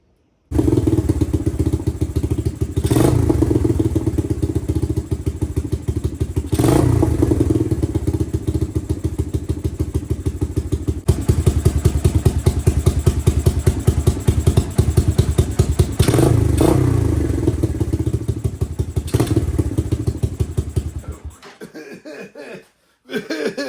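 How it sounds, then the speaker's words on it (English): A 1986 Suzuki Quadrunner LT250EF ATV engine runs to warm up, a loud, close, steady single-cylinder idle with occasional revving surges, then cuts off near the end. "get it up to operating temperature, which means we get to run it for a minute"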